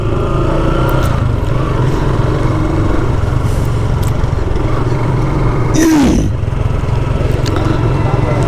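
A group of motorcycles starts off together on a ride along a city road. Engines drone loudly and steadily and rev now and then, with a brief higher whine near the middle and traffic noise all around.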